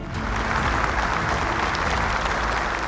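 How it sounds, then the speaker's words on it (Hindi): An audience at a Bible quiz event gives a welcoming team steady, enthusiastic applause, a dense, continuous clapping that fills the hall throughout. "जोरदार तालियों से इनका स्वागत कीजिए।"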